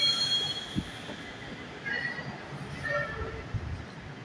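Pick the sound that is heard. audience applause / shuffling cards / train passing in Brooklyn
train passing in Brooklyn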